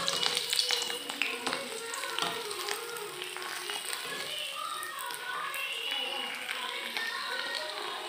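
Ring papad frying in hot mustard oil in a pan, a dense close crackling sizzle that runs steadily throughout with light clatter, while a voice talks over it.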